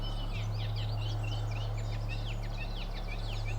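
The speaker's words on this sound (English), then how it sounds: "Somewhere in the background I hear the familiar call of a male reed bunting" A male reed bunting calls from the background with a rapid series of thin, high chirps, faint above a steady low hum.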